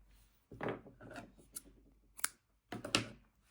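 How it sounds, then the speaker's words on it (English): Scissors snip through crochet yarn in a few separate close, crisp cuts with brief rustling between them, quiet and without talking. "Cut off the yarn and pull it through the whole loop here"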